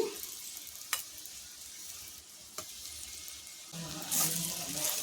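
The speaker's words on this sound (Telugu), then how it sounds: "అదిగోండి ఒకవైపు వేగింది ఇంక రెండో వైపు వేగాలి" Stuffed okra (bhindi fry) sizzling in a pan on the stove, a steady soft frying hiss with a few brief clinks and a louder stirring swell near the end, no talk.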